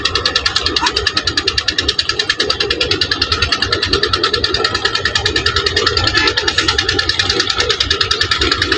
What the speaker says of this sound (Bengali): নদীতে ট্রলারে যাচ্ছে, তার জন্য একটু শব্দটা বেশি শোনা যাইতেছে।